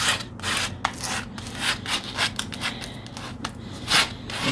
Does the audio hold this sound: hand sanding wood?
yes